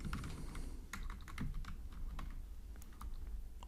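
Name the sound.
typing on a computer keyboard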